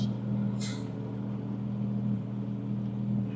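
A tuned car running a burble map idles with a steady low exhaust rumble, close and continuous, with a brief crackling pop early on as revs drop.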